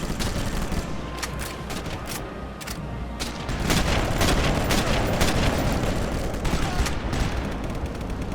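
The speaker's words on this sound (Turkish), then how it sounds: "Sniper otomatik tüfek gibi kullanıyoruz abi." Rapid sniper rifle shots ring out one after another in the Sniper Elite video game during a castle level, sharp, loud, close cracks repeating irregularly over a dense, rumbling battle background.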